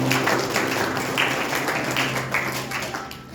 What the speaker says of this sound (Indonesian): Tepuk tangan buat Pak Ketua dulu